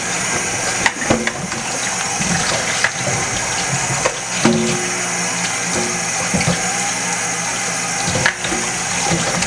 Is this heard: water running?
yes